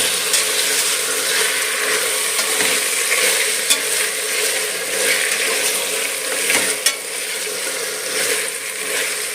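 Tomatoes fry in a pan as the base for an avarekalu pulao, with a steady loud sizzle throughout and a few sharp clicks of stirring against the pan, no talking.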